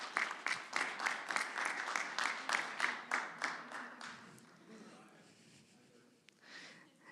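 An audience claps in a brisk round of applause at a student government open forum, fading out after a few seconds, followed by quieter room noise.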